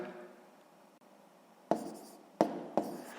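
A pen writes numbers on paper in soft scratching strokes, with three sharper bursts of writing near the end, close and quiet.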